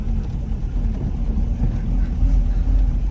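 A homemade car driving, its low rumbling engine and road noise steady and close, loud throughout the short stretch with no clear talk.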